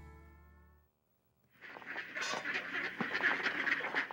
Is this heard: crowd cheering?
no